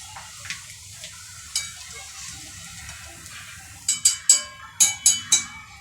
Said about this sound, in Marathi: आपण याच्यामध्ये आता कुरडई तळून घेऊया.